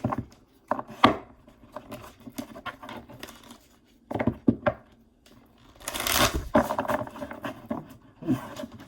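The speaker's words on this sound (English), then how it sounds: "I'm sorry, I didn't shuffle these." A deck of tarot cards is shuffled in several crisp, riffling bursts separated by pauses, close and fairly loud, with no talking.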